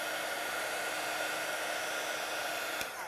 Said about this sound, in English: These heat guns do get up to about 265 degrees, so they're a lot stronger than a regular hair dryer.